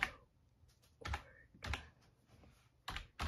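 Several quick bursts of typing on a computer keyboard, close and fairly quiet, with short pauses between clusters of keystrokes.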